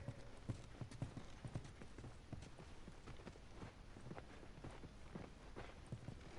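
Horse hooves clip-clop in a steady walking rhythm in the video game The Last of Us, a faint, fairly close series of evenly spaced hoof strikes.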